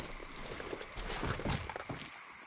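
Horse hooves clip-clopping in the video game Red Dead Redemption 2, a quick irregular series of soft thuds under a dense rushing background, fairly faint and heard alone.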